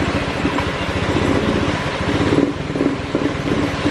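A Honda Beat FI scooter engine idles with its throttle set too low, giving a steady, close, continuous rumbling putter with slight unevenness and no talking.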